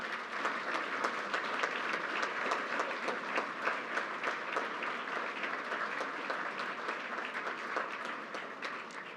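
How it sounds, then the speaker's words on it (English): A dinner crowd applauds at a founder's dinner, steady dense clapping from many hands at moderate distance, continuous and even throughout with no talk over it. "Please get up and get a round of cheer for yourselves for all the good work."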